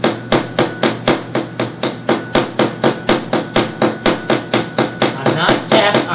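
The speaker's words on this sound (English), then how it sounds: "I'm actually just pounding or tapping very lightly." Light, rapid hammer taps on a wooden finger plane under construction, about two dozen evenly spaced close strikes in a steady rhythm with no talk.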